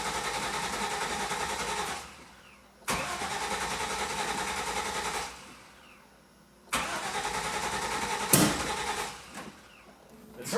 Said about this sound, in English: The turbo's spooling.